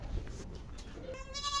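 Goats on a farm bleat in a short, faint call near the end, with a low rustling background and little else.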